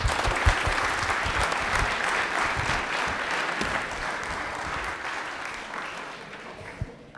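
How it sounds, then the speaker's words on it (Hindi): Studio audience at a televised Rajasthani quiz show breaks into loud, sustained applause, many hands clapping densely and evenly and tapering slightly toward the end, with no voices over it. "तालियां बजा दीजिए आप लोग।"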